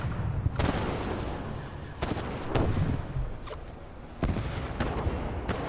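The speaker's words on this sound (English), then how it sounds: "Everybody is running rampant with all the landmines exploding." Landmines explode in the game Fallout 76 during a bright outdoor event, several sharp blasts spaced a second or two apart over a steady rumbling background, no voice heard.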